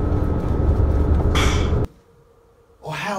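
A train rushes past at close range, a loud sustained roar with a sharp whoosh that cuts off abruptly, a brief lull, then rumbling noise returning; no talking.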